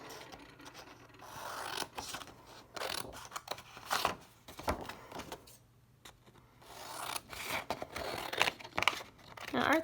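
Scissors cut paper for a homemade gratitude booklet, a series of close, irregular snipping and rustling bursts with brief quiet gaps.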